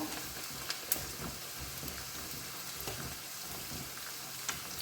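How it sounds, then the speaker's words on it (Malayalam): Homemade hair oil heating in a pan and stirred slowly with a papad stick or small spoon, giving a soft, steady sizzle with a few faint clicks of the stirrer, with no talk. "സൂക്ഷിക്കണം എണ്ണയാണ് സാവകാശം ഇളക്കണം"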